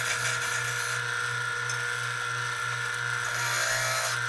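A parting tool cuts a mortise into the bottom of an epoxy resin and wood Celtic knot bowl spinning on a lathe. It makes a steady, loud scraping hiss over the constant hum of the lathe, with no talking.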